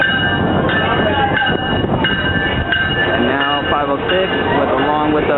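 Tri-Rail passenger train rolling past, loud and close, with a steady rumble of wheels and cars, squealing tones from the wheels and a sounding horn, while a person talks over it.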